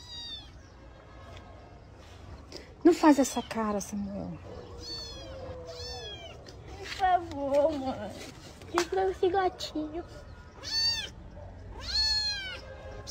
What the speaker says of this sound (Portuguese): Sim, eu sei que ele tá miando.